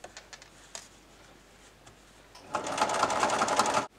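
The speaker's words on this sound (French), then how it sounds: "Et je continue à faire une toute petite surpiqûre tout autour." A sewing machine topstitches around the edge of a fabric face mask, first with a few soft ticks, then a steady fast close whirring run that stops abruptly.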